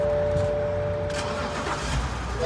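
A 2008 BMW X5 3.0i engine with 151k miles cranks briefly and catches, settling into a steady idle hum close by.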